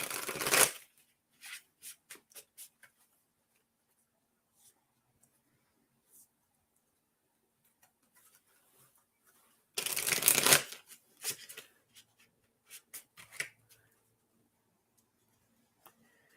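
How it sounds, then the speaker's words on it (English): Playing cards being shuffled for a spiritual reading, two close, crisp bursts of riffling flutter, each followed by scattered light taps and card handling, with long quiet stretches between. "I've been shuffling this whole time."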